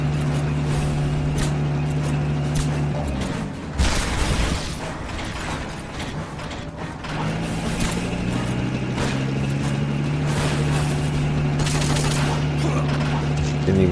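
Gunfire in Metal Gear Solid: Peace Walker as the player shoots. Mechanical rattling shots and a booming burst mix with steady game tones, and talking is heard at times.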